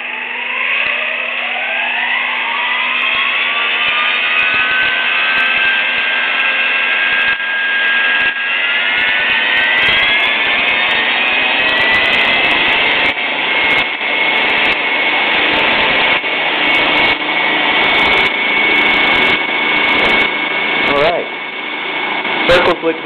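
Night blades spin up on a first test spin with a rising, whining motor pitch that settles into a loud, steady whirring hum, with clicks and faint handling noises scattered through the second half.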